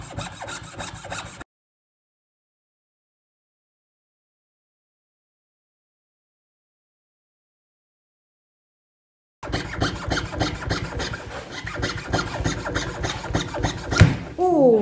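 Wood is sawn by hand with a fret saw threaded through a drilled hole, making rapid rhythmic rasping strokes, loud and close, in a short burst, then silence, then a longer run of strokes.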